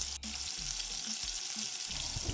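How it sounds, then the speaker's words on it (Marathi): Pumpkin puris deep-frying one at a time in hot oil, a steady close sizzle with soft crackling bursts and a few faint clinks, no voices. "पहिल्यांदा एक एक पुरी तळून घेते"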